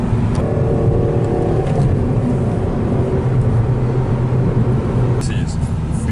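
A car engine drives and pulls steadily with a low, continuous drone, while a rising tonal note climbs early on and road noise stays loud throughout; a voice talks over the engine.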